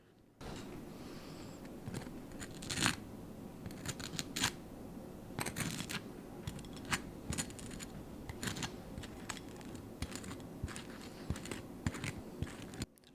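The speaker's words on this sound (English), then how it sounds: "I'll give you some nice toast spreading ASMR here" Butter knife scraping thick Vegemite across crisp toast, a steady close-up rasping with repeated sharp scratchy strokes and small crunches, no talking.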